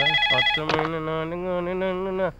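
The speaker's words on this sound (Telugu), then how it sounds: "ఫోన్ రా. ఎత్తు." An electronic phone ringtone plays a clear, steady melodic tone, loud and close, with a brief vocal blip near the start and no other talk.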